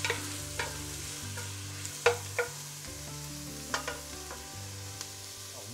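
Onion and garlic sizzle over moderate heat in a pan for chili con carne, with a steady low crackle and occasional clinks and scrapes of a utensil stirring. No one speaks.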